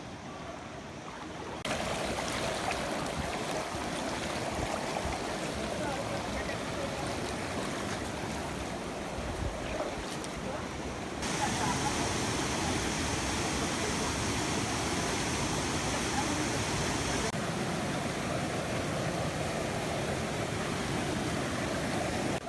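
Waterfalls in the Moroccan desert give a close, steady roar of rushing, splashing water that fills the whole stretch without pause, loudening slightly after a short quiet opening.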